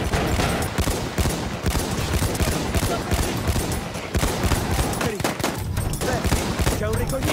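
Rapid automatic gunfire and explosions in the first-person shooter game Battlefield 1, dense continuous bursts of shots up close throughout, with players shouting over the fighting.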